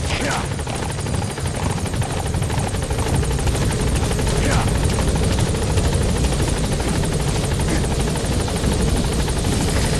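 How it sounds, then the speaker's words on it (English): A support helicopter in Metal Gear Solid V settles toward a landing zone, its steady rotor thrum and engine whine loud and continuous throughout, with faint voices partly buried in the noise. "Support helicopter has arrived."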